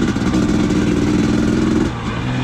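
A dual sport dirt bike engine runs loud and close, holding a steady droning rev that drops to a lower idle near the end.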